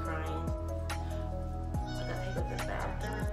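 A pet dog whimpers and cries in short, high, wavering bursts close by, mixed in with someone talking steadily indoors.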